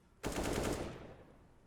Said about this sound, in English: Guru's just going to be rattling off a few shots through the smoke